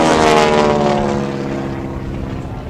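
The vintage propeller aircraft Big Red performs a barrel roll at the Tuscaloosa Regional Air Show, a loud steady engine and propeller drone that slowly fades as the plane pulls away overhead.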